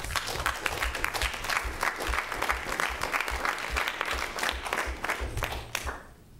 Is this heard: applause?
yes